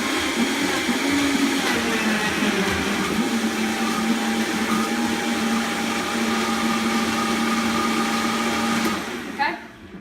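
A blender whirs loudly and steadily as it mixes a water-based shake, running for about nine seconds before cutting off abruptly.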